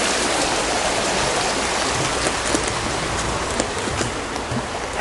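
A small stream, a tributary of the River Crimple, flows in a steady, loud broadband rush of water with no voices, close by and unchanging throughout.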